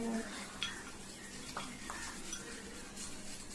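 Home hair colour mixture stirred in a bowl, a soft, continuous wet scraping and swishing close up, with a few faint taps of the utensil against the bowl.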